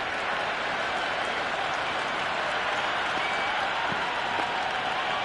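Steady crowd roar with scattered applause from a simulated stadium during an Ashes first-test match in the Cricket 26 video game, a dense continuous wash of cheering at moderate level with no break throughout.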